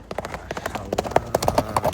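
Hooves of a five-year-old horse clip-clop in a quick, steady rhythm of close, distinct strikes, with no talking over them.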